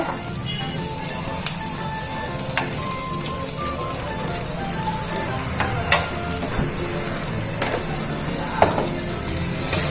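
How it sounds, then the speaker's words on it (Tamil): Butter sizzling in a heated pan for a paleo garlic dish, a dense continuous frying hiss with small crackles and occasional stirring clinks, close and steady throughout. "இப்போ வந்து ஒரு பேன் ஹீட் பண்ணிக்குவோம். ஹீட் பண்ணிட்டு அதுல வந்து பட்டர் சேர்த்துக்கோங்க."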